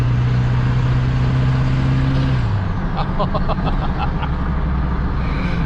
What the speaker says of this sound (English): I don't know if you guys can hear that turbo spooling up.